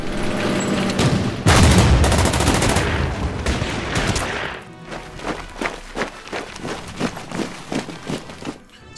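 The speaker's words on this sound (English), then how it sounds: "Let's fire with our heavy weapons team and hopefully finish this guy off." Heavy weapons team firing in the Order of Battle war strategy game, Burma Road setting: a dense, loud burst of gunfire and booms followed by a series of sharper, separated shots trailing off, with no talk.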